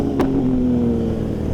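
A BMW S1000 RR sport motorcycle in a group ride roars past, very loud and close, its engine note dropping in pitch as it goes by and then holding a steady drone.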